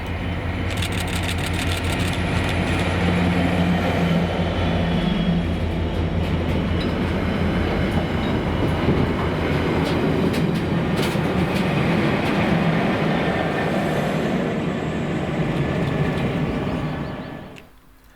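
A train passes New Craighall in Scotland, a loud, sustained rumble and clatter of rolling wagons that holds steady for most of the pass, then quickly fades away at the end.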